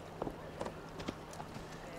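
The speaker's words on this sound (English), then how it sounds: "we are on a horse" Quiet, irregular clip-clop of horse hooves at a walking pace in the video game Assassin's Creed Valhalla, a few soft knocks over a low hum.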